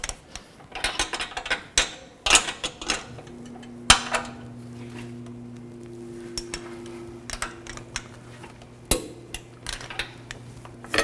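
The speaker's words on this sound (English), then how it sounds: "Now I'm going to tighten these bolts to 55 foot-pounds." A ratchet or torque wrench tightens the lower control arm bolts on a GMC Acadia: sharp metallic clicks and clanks in irregular bursts, with a low motor-like hum in the middle stretch, no talking.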